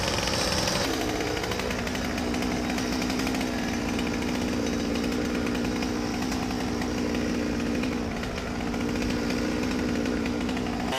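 A chainsaw buzzing continuously and loudly, close by, while pruning the low branches of a linden tree during commercial urban tree work.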